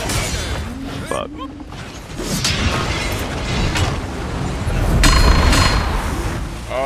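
Heavy impacts and crunching hits from a hammer attack in video game combat, a few booming strikes over a busy, noisy background.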